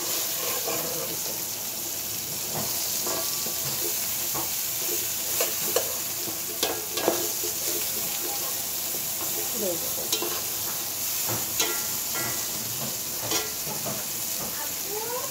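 Noodles stirred and flipped in an oiled frying pan under a constant hiss of frying, with scattered spatula scrapes and taps throughout, close and fairly loud.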